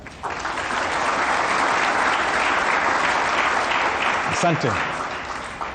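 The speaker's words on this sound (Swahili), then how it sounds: "tuwapigie makofi tafadhali kuwakaribisha" Audience applause welcoming guests to a youth discussion program in Pwani, a sustained burst of many hands clapping that swells quickly and fades near the end, with a brief voice heard over it.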